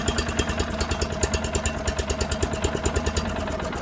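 A Giant Vac leaf blower, undergoing repair, idles on its small engine with a steady, close, pulsing putter that holds an even rhythm throughout.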